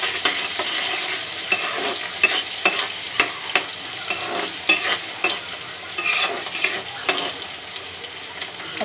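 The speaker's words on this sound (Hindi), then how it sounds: "फिर हम ये ऑनियन डाल देंगे। आँच मध्यम कर लेंगे, चम्मच की सहायता से हम इन्हें चलाएंगे।" Onions frying over medium heat and stirred with a spoon for egg biryani: a continuous close sizzle with repeated scraping strokes of the spoon against the pan, no talk.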